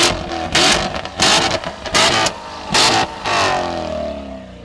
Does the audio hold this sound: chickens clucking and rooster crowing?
no